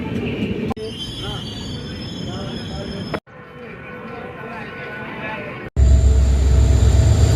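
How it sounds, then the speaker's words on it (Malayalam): A train pulls into Tumkur railway station in Karnataka, its steady rumble and wheel noise filling the platform across several cut segments, with voices in the background. "ട്രെയിൻ വരുന്നുണ്ട്."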